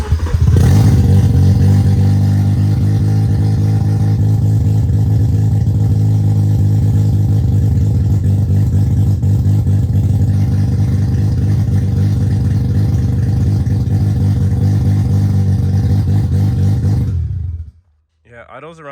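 A Mazda FC RX7 rotary engine runs steadily for most of the stretch, a loud, dense mechanical drone held near and continuous before it cuts off abruptly near the end.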